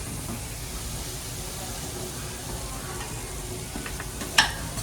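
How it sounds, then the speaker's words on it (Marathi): Vegetables sautéing in a pan with turmeric, goda masala and coriander powder for tondli rice, a steady soft sizzle with faint stirring and one brief louder clink near the end. "ते मसाले, आणि ते सुद्धा आपल्या भाज्यांसोबत छान असे परतून घ्यायचे"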